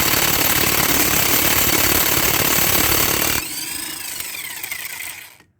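Loud, rapid hammering rattle of an impact driver with a 22 mm socket loosening the variator nut on a Honda Activa scooter, steady for about three seconds, then a quieter whirring spin that fades out.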